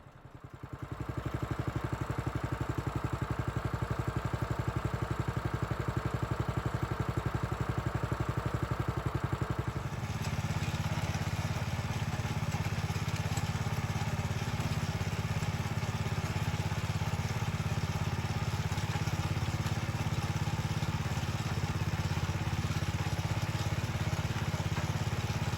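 A small gas tiller engine starts and runs steadily close by, a loud continuous mechanical chug that shifts to a heavier, rougher drone partway through as it settles into working.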